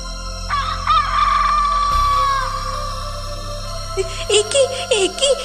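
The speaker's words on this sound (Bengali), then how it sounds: "কিছু দূর যেতেই ঘাড় মুটকে ধরলো মুরগি।" A cartoon hen squawks and clucks in alarm as a fox grabs her by the neck, with a long, loud crowing call followed by sharp, choppy squawks near the end, alone without talk.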